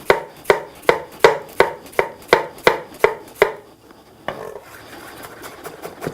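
An onion being chopped with a knife on a board: about ten crisp, evenly spaced strikes in a steady rhythm, close and clear, then a pause and a softer, scattered scraping and cutting.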